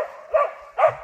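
Laika hunting dogs bark during a hunt, with two loud, close barks about half a second apart over a steady background hum, with no talking.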